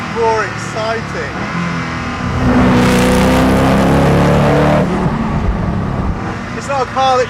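Koenigsegg Agera R supercar engine roaring in a loud, sustained surge of acceleration lasting a couple of seconds, with someone talking before and after the burst.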